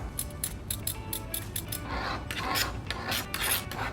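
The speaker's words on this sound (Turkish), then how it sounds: "Şimdi biraz da kabak rendeleyeceğiz." Peeled zucchini rubbed against a kitchen grater, a quick series of close, raspy scraping strokes in a steady rhythm, fairly loud with no talking.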